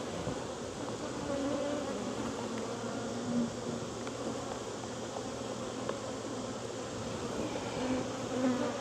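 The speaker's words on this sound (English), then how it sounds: "bees all over the camera" Honey bees crawling over and around a camera at an open hive make a steady close buzz that continues throughout at an even level.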